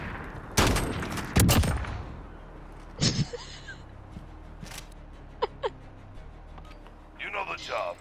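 Gunfire in Call of Duty Modern Warfare: two loud close bursts early on, then a few sharper isolated shots and a later quieter volley, with players talking over the action.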